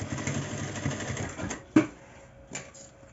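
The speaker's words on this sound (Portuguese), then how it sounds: "E vou costurar." A sewing machine stitches a strap onto a fabric bag, centred above the zipper, with a short burst of close mechanical stitching followed by a sharp click and a brief second whir.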